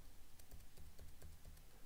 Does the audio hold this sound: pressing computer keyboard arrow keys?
yes